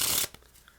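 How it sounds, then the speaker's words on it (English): A deck of playing cards riffled in a short, close burst of dense papery flutter that stops abruptly, followed by a few faint soft card taps. "place the card somewhere into the middle of the deck and give it a few shuffles"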